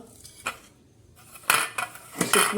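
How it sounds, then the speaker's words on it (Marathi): A metal idli steamer pot is greased with oil, producing sharp utensil clinks and scrapes in separate bursts, the busiest cluster coming in the second half, with no voices. "हे इडलीच्या भांड्याला असं तेल लावून घ्यायचं"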